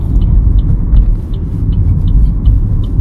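A car drives a road-test course during a driving exam and changes lanes, its steady low engine and road rumble loud and close throughout, with a faint regular ticking of the turn signal above it.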